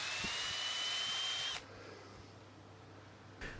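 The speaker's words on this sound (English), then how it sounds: "Drilling pilot holes for the support screws onto which the machines will hang." A power drill bores pilot holes for support screws in a display backboard, whining at steady high pitch for about a second and a half before cutting off, followed by quiet and a short final burst.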